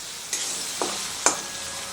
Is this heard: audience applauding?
no